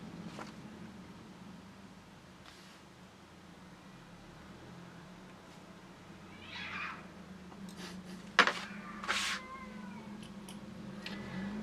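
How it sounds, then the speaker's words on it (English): Cats yowl and screech in a brief squabble, a couple of sharp hissing cries rising over quiet background hum. "the cats are having a scrap"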